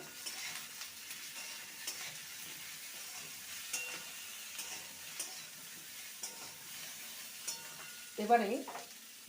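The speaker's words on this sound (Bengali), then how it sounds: "আর দিয়ে দেবো হলুদ গুঁড়ো ভালো করে নেড়ে নেব" Spinach fries with turmeric powder in a pan, giving a faint, soft sizzle with light stirring scrapes and a louder clatter of the utensil near the end.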